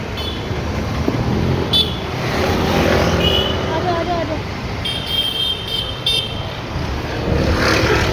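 Busy road traffic on a street in Kerala, with a steady loud wash of engines and passing cars, short horn toots cutting through, and people talking amid the noise.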